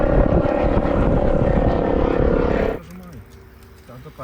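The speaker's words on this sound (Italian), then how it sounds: "è da 20 minuti che l'elicottero è qua fermo" A helicopter that has sat stationary for about twenty minutes after loading a casualty gives a loud, steady close-range rotor and turbine drone, then cuts off sharply near the end, leaving a quieter background with a faint voice.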